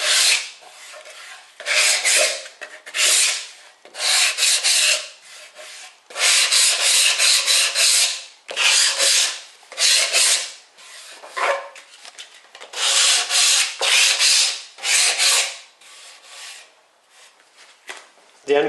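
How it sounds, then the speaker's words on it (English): Light hand sanding of MDF surfaces: a series of close, rhythmic rasping strokes in short bursts separated by brief pauses, heard alone. "So I'm going to give each of these surfaces a very light sanding."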